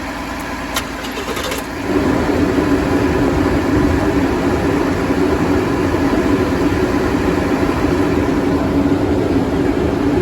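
A car engine is cranked and started while jump-started from a diesel, drawing heavy current to the starter; after a short, quieter lead-in, a loud, steady engine roar fills the rest of the clip with no talk.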